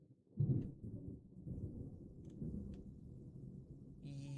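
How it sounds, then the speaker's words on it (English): Thunder from a lightning strike rumbles low and heavy during a severe thunderstorm, opening with a sharp crack and rolling on steadily for several seconds, with faint rain behind. "That was a crack of lightning."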